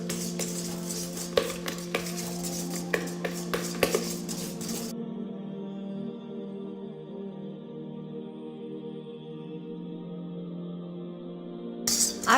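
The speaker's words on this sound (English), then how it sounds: "and just start beating." Rapid metallic clinking of a whisk beating cake batter in a mixing bowl set over hot water, steady and close, then it stops and a low hum carries on before clinking briefly returns at the end.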